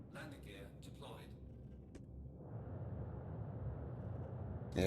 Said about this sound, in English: Yeah, you can hear those VTOLs kicking in.